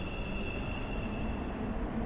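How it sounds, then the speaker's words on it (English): A train rolls into a station platform in the Roblox game Stepford County Railway, a steady low rumble with sustained high-pitched wheel or brake whine tones across the whole stretch, fairly loud and without speech. "The train now approaching platform 4 terminates here."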